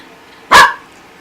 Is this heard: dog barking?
yes